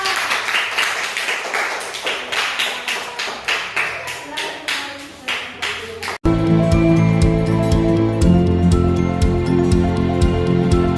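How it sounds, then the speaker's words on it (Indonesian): Classroom applause for the second group of student teachers, a quick run of close claps and taps for about six seconds that gives way abruptly to steady, loud music. "Oke, beri aplaus dulu untuk kelompok 2."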